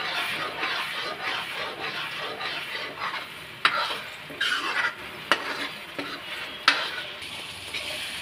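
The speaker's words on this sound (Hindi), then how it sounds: "अब इसको भी फ्राई करेंगे करीब 1 से 2 मिनट तक" Ground tomato paste frying in a pan while being stirred, a bright steady sizzle broken by several sharp clinks of the spoon against the pan, close and without talk.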